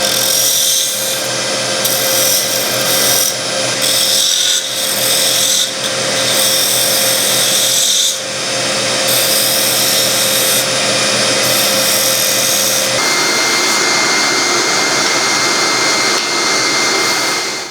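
A power tool shapes the outside edge of a wooden box piece on a Hope threading jig with a left-hand spindle, giving a steady, loud whirring grind that runs throughout with small shifts in pitch and load.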